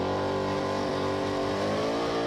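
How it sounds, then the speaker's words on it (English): A blown, injected small-block burnout car at an Australian burnout competition revs hard and continuously, a loud, dense engine roar with harmonic wavering throughout and no voices. "plenty of revs, a little bit of fire to boot"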